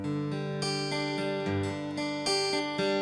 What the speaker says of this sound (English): An arpeggio is when you play notes individually.